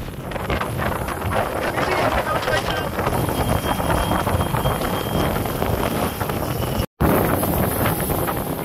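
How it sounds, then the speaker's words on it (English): Strong wind on Cape Verde roars continuously across the microphone outdoors, a loud, dense buffeting that barely lets up and cuts out briefly near the end. "For you that wondering if it's windy on Cape Verde, the answer is yes, it is windy."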